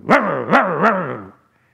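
A storyteller's voice imitating a dog barking in a folk tale, three loud, close, wavering barks in quick succession, then silence.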